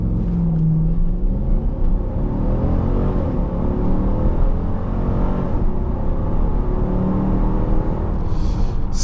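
A 2025 Dodge Durango R/T accelerating hard from a standstill toward 100, its engine a loud, steady roar and rumble that builds continuously, heard close from inside the cabin with no talk.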